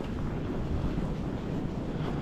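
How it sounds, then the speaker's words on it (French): Wind gusts during a snowstorm in Quebec, driving snow against the face, come through as a low, steady rumble with microphone buffeting and no other sounds. "le vent ça te fouette un peu le visage avec la neige"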